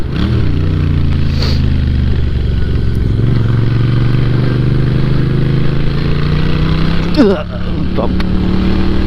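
A Moto Guzzi V7 motorcycle engine drones steadily while riding, a loud close rumble with a brief rev and clatter near the end, wind noise throughout.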